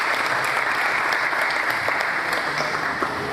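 Steady, full applause from an audience at a MobileMonday Nigeria internet event, loud and continuous from start to finish.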